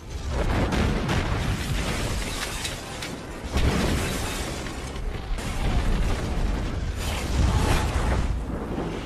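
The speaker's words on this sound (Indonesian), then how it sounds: "setelah bom meledak dan Whistler terbunuh" A bomb blast in a Blade vampire-hunter film scene: a loud, close, rolling explosion with bursts of crackling debris and rumbling aftershocks that swell again partway through and near the end.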